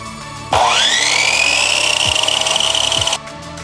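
A power cutting tool bites into an intercooler pipe on a Mazda B2200 turbo build: a loud, steady whining cut with rising pitch at the start, lasting under three seconds before stopping abruptly, with faint rhythmic ticks underneath.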